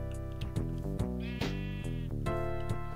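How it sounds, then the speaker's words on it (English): Minecraft sheep bleating in the game, several short wavering bleats in a row over a steady background music bed, fairly soft and close. "What was that I heard? Was that a sheep?"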